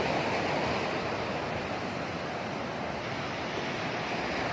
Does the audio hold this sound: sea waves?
yes